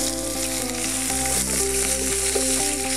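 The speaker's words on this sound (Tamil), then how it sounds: "வெங்காயம் கொஞ்சம் நல்லா நல்லா ப்ரௌன் கலரில் நல்லா ரோஸ்ட் ஆகிற வரைக்கும் நம்ம வெங்காயம் குக் பண்ணணும்" Chopped onions sizzle steadily in a pan, browning for a whole duck pepper gravy; the frying hiss is continuous and close, with no talking over it.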